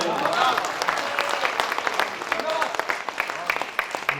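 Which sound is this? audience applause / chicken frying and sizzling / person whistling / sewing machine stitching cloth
audience applause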